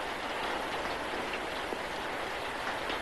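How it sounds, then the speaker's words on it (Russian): Steady rain pours down outdoors, a dense, even hiss of falling water that continues without pause, fairly loud and close, with no voices over it. "Es regnet."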